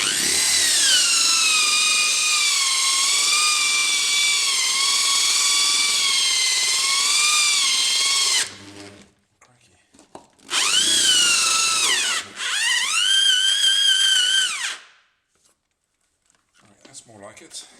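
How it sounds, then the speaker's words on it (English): Electric drill on its slowest speed boring through laminate, a loud sustained whine that wavers in pitch, then stops and restarts in two shorter bursts before silence. "I'm on the slowest speed of my drill as well"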